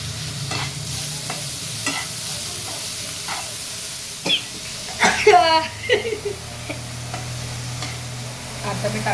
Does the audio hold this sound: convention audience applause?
no